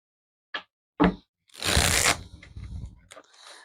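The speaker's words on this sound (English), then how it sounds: "So I'm going to give them a knock and a shuffle." Two sharp knocks on a deck of tarot cards, then a steady rustling shuffle of the cards lasting a couple of seconds, close and fairly quiet with no talking.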